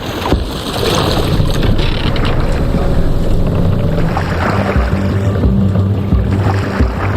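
Viking longship under sail in Assassin's Creed Valhalla, a steady broadband wash of water and wind around the hull, continuous and fairly loud with low rumbling swells throughout.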